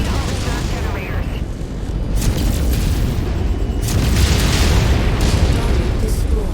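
A continuous, heavy rumble of explosions and booming weapon fire as a target is destroyed in a mech combat game during a demolition mission, loud and sustained throughout.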